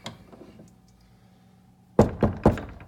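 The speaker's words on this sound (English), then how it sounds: "Had fun with the doors, put little speakeasy doors in them." Three firm knocks land on a small speakeasy door set into a larger door of an 1890s-themed pub, close and solid, after a quiet stretch of low room hum.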